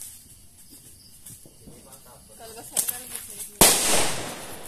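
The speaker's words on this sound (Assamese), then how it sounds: "যোৱা বছৰ দিৱালীৰ ফটকা ভিডিঅ' কেইটামান আছে" Diwali firecrackers go off, with crackling pops and hissing bursts that build to a loud, sharp blast near the end against background noise.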